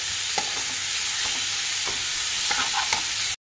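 Ginger and tomato paste masala being stirred and fried in a pan for a home-style Bengali niramish aloo potol curry, a steady close sizzle broken by a few soft scraping strokes of the spoon, ending abruptly.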